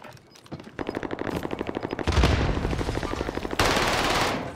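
Heavy automatic gunfire in a video game: a fast, even rattle of shots, near and loud, rising into louder sustained bursts.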